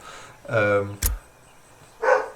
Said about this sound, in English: So I can hear my dog in the background.